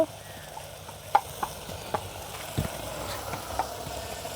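Mushroom curry sautés in a pan with a faint low sizzle and a few light, scattered stirring clicks, quiet and close.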